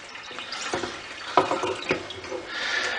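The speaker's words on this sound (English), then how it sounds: "I'm just putting some water in the jug" Water runs and splashes into a jug at a kitchen tap, a short close pour with a few louder splashy bursts and a steady hiss building toward the end.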